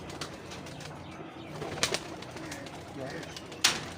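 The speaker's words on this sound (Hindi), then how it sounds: "ये उनके चीने सलारे कबूतर हैं" Cheena Salara pigeons coo softly in a loft, with a few sharp clattering bursts from wing or cage movement and faint background murmur.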